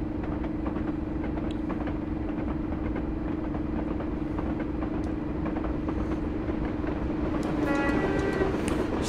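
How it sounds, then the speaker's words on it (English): A Black 5 steam locomotive hauls a freight train past in a steady, continuous rumble of wheels and carriages, with a sustained low drone throughout and some brief higher tones near the end. "Another Black 5. That one's on a freight train."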